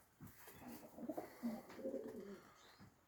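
Young racing pigeons coo softly in a loft, a few low burbling calls rising and falling, fairly faint and close, with no talk over them.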